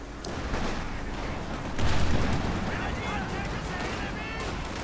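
Artillery shells fire and explode in the strategy game Company of Heroes 2, a continuous rumble of booms and blasts that swells briefly midway, under steady talking.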